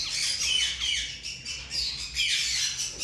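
A cobalt DF parrot chick squawks in rapid, harsh bursts, close and loud, repeating almost continuously with brief dips between calls.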